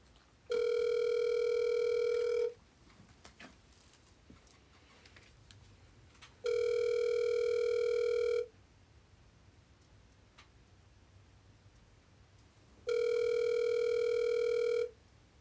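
A telephone ringback tone during a prank call: three long, steady electronic rings spaced about four seconds apart, clear and close against a quiet line.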